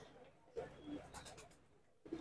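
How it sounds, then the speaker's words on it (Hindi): Colourful Guldar khal pigeons in a backyard breeding setup coo faintly and intermittently while grain is scattered for them, with soft background noise around the low calls. "देखिए कबूतर नीचे आएंगे"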